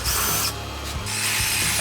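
A power drill whines loudly and continuously as it bores holes into a car chassis frame to mount a radiator support, the motor pitch dipping briefly under load before rising again.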